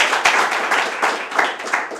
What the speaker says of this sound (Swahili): Rumpigie makofi.